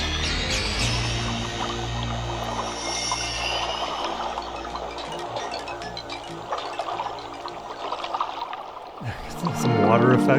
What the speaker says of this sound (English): Some water effects.